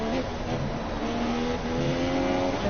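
A Formula 4 race car heads out on its out lap at a Singapore round, a steady, fairly distant engine drone holding an even pitch with no talk over it.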